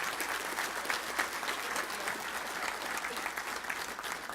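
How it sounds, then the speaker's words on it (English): Steady round of audience applause fills a banquet hall at a Little Rock Touchdown Club awards banquet, dense clapping holding even throughout without speech. "Only 4, which is worth a round of applause right there,"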